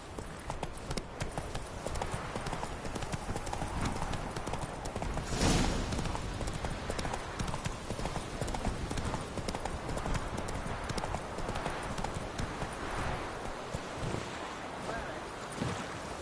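Horse hooves clip-clopping in a steady trot in a PS4 video game, continuous and close under wind-like background noise.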